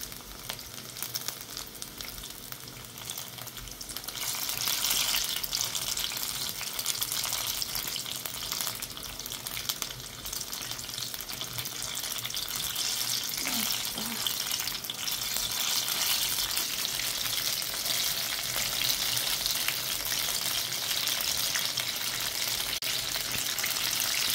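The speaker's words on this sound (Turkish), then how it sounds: "Mümkün olduğu kadar kısık ateşte kızartırsak daha bir güzel olurlar." Food fries gently over low heat in a pan, with a steady sizzle and crackle that grows fuller after the first few seconds and runs continuously, close up, with no talking.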